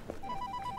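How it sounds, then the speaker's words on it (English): A telephone rings in a movie scene, a steady repeating electronic trill in short regular pulses, moderately quiet beneath a low background hum, with no talking. "Goodness, it's my phone. It's ringing."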